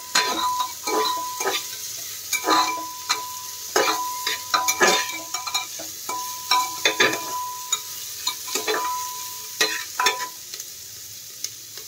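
Chicken stew stirred in a pan over a high flame, with a spoon scraping and knocking against the pan in an uneven rhythm over a steady sizzle, close and fairly loud, with no talking.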